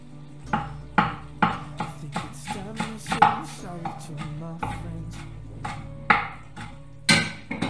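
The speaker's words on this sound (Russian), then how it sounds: "Беру 10 грамм кинзы свежей и мелко ее нарезаю." Fresh cilantro is chopped finely with a knife on a board in a series of crisp, close knocks, some in quick bursts and some spaced apart, with faint background sounds between strokes.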